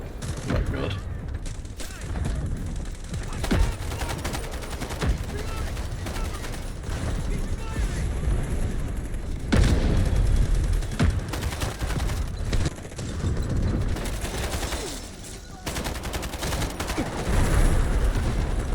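Gunfire in the video game Delta Force, with rapid bursts of sharp shots repeating throughout alongside clicking weapon mechanisms, fairly loud, with occasional talk mixed in.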